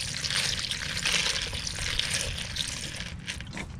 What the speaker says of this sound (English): Let's take a look at that as I rinse them off.